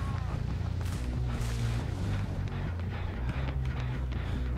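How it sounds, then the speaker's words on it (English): An explosion in the Dead by Daylight video game goes off with a deep booming rumble, layered over continuous game ambience, music and scattered impacts. "Something blew up down there."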